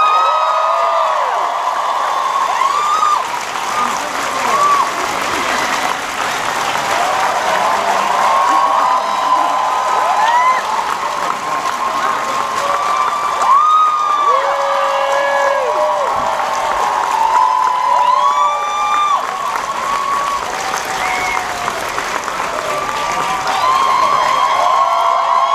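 A large fan expo crowd cheers, whoops and claps for the Walking Dead cast, a loud, sustained roar with shouted voices and whistles rising over continuous applause.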